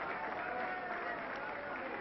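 A large racecourse crowd at the 1974 Aintree Grand National applauds and cheers Red Rum, the winning horse, a dense, steady roar of clapping heard from a distance, with a commentator talking over it.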